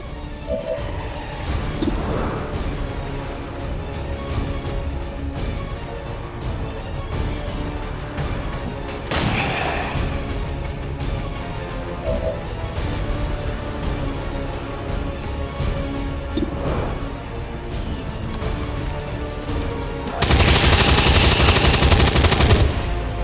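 Dense automatic gunfire and battle noise from the video game XCOM 2: War of the Chosen, rattling continuously under music and effects, with a louder burst of noise near the end.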